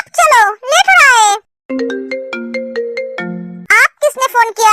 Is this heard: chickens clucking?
no